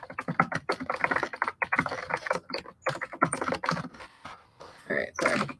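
A computer keyboard clacks in quick, irregular bursts of close typing with short pauses between runs of keystrokes.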